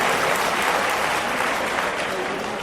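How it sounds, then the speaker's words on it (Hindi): An audience at a comedic mushaira poetry gathering at NUML University claps in a dense, sustained burst of applause that holds steady throughout and eases slightly toward the end. "बेटियों के लिए तालियां भाई।"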